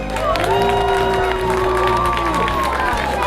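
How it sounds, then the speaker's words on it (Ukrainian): A large audience applauds and cheers loudly at an outdoor political rally in Uzhhorod, a dense continuous roar of clapping with whoops and shouts rising over it. "Під ваші оплески зустрічаємо Копча Надія Іванівна."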